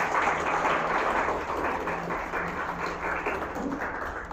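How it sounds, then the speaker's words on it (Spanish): Church congregation in Quito giving loud applause for the children, a continuous wash of clapping that holds steady for several seconds without a break. "Un fuerte aplauso para los niños"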